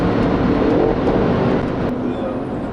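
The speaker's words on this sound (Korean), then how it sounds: "엔진 사운드도 그렇게 날카롭지 않습니다. 적당한 무게감을 주는 그런 사운드지만" A Mercedes-AMG GLE 63 4Matic engine runs with a steady, weighty, not sharp tone during a test drive, loud and continuous, with a voice talking over it.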